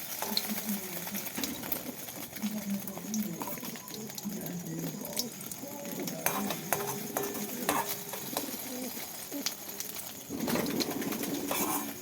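Food frying in hot oil gives a soft, steady sizzle close by, with light stirring scrapes, a few clinks and occasional faint voices in the background.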